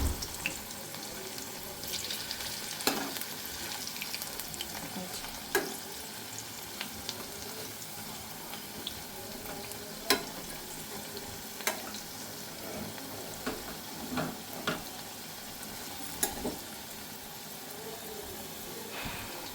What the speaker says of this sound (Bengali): দেখো এখন এতটা ভাজতে বাকি আছে